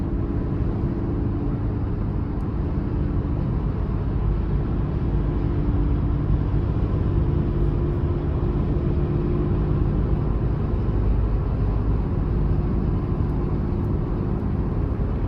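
Cabin of a 2023 Toyota 4Runner SR5 while driving, a steady low engine and road rumble with muted tire noise, even and continuous with no talking.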